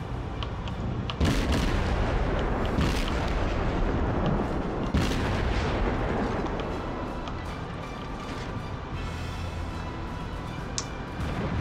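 Booming naval gunfire from enemy warships in World of Warships, with repeated heavy shots and blasts over a dense, continuous battle rumble.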